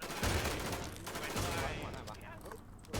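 Rapid gunfire in the shooter game Warz, dense bursts of loud shots packed together for a few seconds before thinning out, with a voice talking over them.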